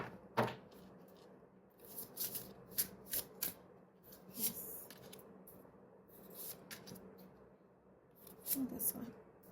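A tarot card deck is shuffled by hand in close, crisp bursts of riffling and sliding cards, broken by brief pauses.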